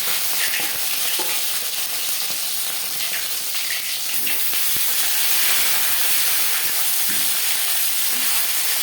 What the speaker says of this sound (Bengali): এবার দিয়ে দেবো ম্যারিনেট করে রাখা মাছের মাথা।